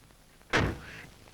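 A door slams shut with one heavy, close thud that rings briefly before fading into a quiet room.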